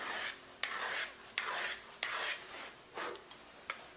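A metal file rasps in repeated rhythmic strokes across the blade of a hardwood floor handscraping tool, each pass a loud, close, gritty scrape with short pauses between, about seven strokes in all.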